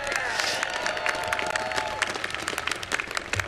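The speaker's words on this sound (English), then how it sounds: "Let's have a round of applause for the volunteers." Crowd at a gubernatorial inauguration ceremony applauds in a dense, steady burst of many hands clapping, fairly loud and even, with a few whistles early on, fading slightly toward the close.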